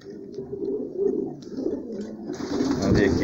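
Pigeons coo continuously in a loft with nesting birds, overlapping low rolling calls close by, with higher chirps and a rising busy texture toward the end.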